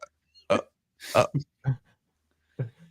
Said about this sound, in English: I've had the hiccups all day, so hopefully they won't come back.